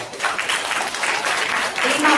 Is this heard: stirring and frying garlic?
no